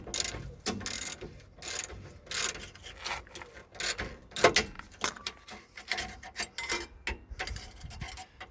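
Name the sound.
18 mm flat wrench turning a bolt on a Renault Twingo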